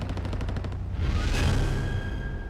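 Gunfire from a Battle of Midway engagement: a rapid burst of automatic shots rattles at the start, then a loud blast swells and lingers as a dense roar with a ringing tone, carrying on steadily to the end.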